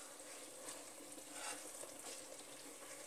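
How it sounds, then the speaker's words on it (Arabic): Chicken and onion fry together in a pot, giving a steady, quiet sizzle with soft stirring scrapes and no voices. "من بعد ما تشحر معنا الدجاج مزيان، شحر هو والبصله"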